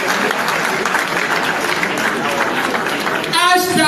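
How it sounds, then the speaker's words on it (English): A crowd at a political rally claps in a steady, loud burst of applause, with a voice speaking briefly over the end. "Ladies and gentlemen, a round of applause again."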